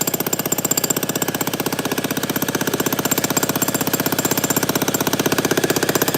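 Jackhammer pounding concrete during demolition, a loud, fast and perfectly steady stream of hammering blows close by, running continuously without pause.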